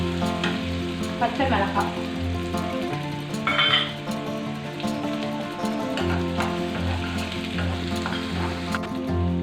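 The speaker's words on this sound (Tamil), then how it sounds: "வெங்காயம் போட்டு வதக்கவும்" Onions sautéing in hot oil with spluttered mustard seeds for a kara kuzhi paniyaram filling: a steady close sizzle with occasional spoon clinks against the pan, while a voice speaks briefly.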